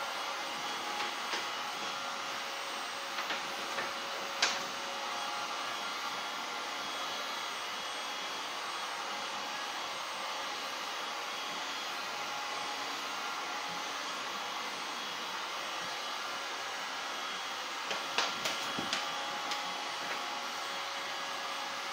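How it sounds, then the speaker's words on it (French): Heat gun blowing steadily while heating covering film on a model airplane aileron, a soft continuous airy whoosh throughout with a few faint clicks and taps. "je vais chauffer uniformément toute la partie que je veux"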